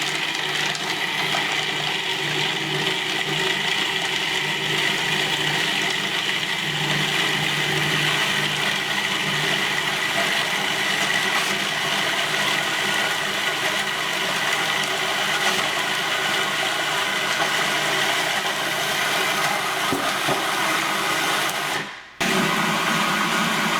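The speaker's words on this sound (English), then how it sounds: "I'm going to whiz everything together, and then I'm going to stream the olive oil in" A food processor blends marinara and pesto ingredients, a loud, steady motor whir with a grinding, churning texture that runs unbroken for over twenty seconds before cutting off abruptly.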